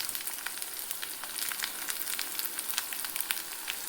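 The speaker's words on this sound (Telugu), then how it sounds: "కొంచెం గోల్డ్ కలర్లో వచ్చేంత వరకు వేయించుకుందాం" A quiet, steady sizzle of onions and spices frying in oil until golden for a simple mutton fry, with small crackles and pops scattered throughout and no talking.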